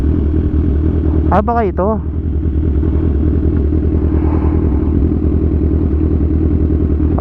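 Motorcycle engine running steadily and loudly close by while riding near a rough road, a constant low rumble throughout with a man's brief spoken remark over it early on.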